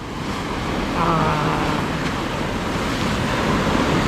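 Ocean surf washes onto the shore at Boca del Tule near San José del Cabo in a steady, broad roar, with wind noise on the microphone and no break in the wash.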